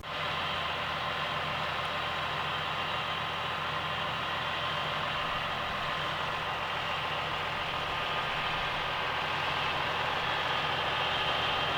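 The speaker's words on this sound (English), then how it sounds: "We're aerating the ground with that." A tractor engine runs steadily while aerating farm ground, a continuous low idling rumble with broadband noise, unbroken and fairly close, with no voices.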